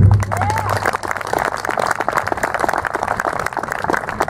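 Outdoor rally crowd applauding with scattered claps and possible cheers, steady and moderately loud throughout, with a brief voice near the start.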